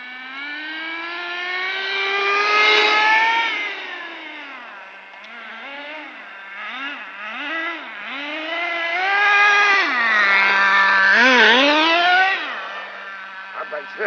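An RC nitro car's .15 glow-start engine with pull start screams at high pitch, its whine rising and falling through repeated throttle blips, loud and close for the whole stretch.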